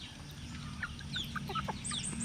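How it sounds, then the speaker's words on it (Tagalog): Several native chicken hens cluck and chirp in short bursts over a steady low farmyard hum, fairly close by. "So ito naman yung mga bago kong inahin."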